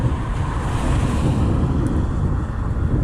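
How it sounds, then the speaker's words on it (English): Strong wind buffeting a microphone on a hillside, a loud, constant low roar with no breaks for the whole stretch. "I think the one thing that we are not going to lose is the wind."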